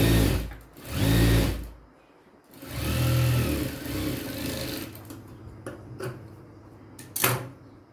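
A sewing machine stitches a square katori-style blouse, running in short separate bursts with quiet pauses between them and a few faint handling sounds near the end.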